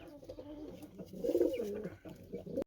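A pair of pigeons kept in a small cage coo in soft, throaty, repeated phrases, fairly close and clear, swelling in the middle and trailing off with no talking.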